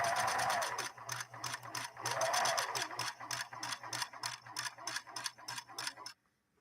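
A Singer 6212C sewing machine stitches stretchy fabric in rapid mechanical bursts, the needle ticking steadily near and loud with a low motor hum, slowing in spots before stopping abruptly at the end.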